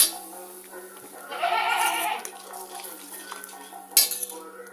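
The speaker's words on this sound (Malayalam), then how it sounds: "ഈ അരപ്പ് നന്നായിട്ട് ചെറിയ ഫ്ലെയിമിൽ വേണം നമുക്ക് ഈ അരപ്പ് നന്നായിട്ട് ഇതിൻ്റെ പച്ച മണം ഒന്ന് മാറുന്നത് വരെ നന്നായിട്ടിത് ഇളക്കി കൊടുക്കണം." Spice paste for an amla pachadi is stirred in a pan over a low flame, with a close metal spoon scraping for about a second and a sharp clink later against a quiet background.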